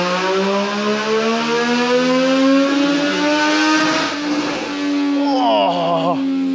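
Triumph Street Triple 765 RS motorcycle on a dyno, engine held high and climbing in pitch, loud and close, then dropping off with a brief wobble at the end.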